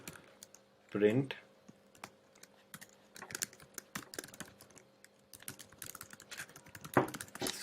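Keys clatter on a computer keyboard as code is typed, in quiet irregular bursts and single clicks beneath a man's intermittent speech.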